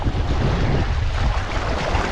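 Rough sea slaps and washes around a small fishing boat out on the water, with a dense, steady roar of waves and wind buffeting close to the microphone and no talking.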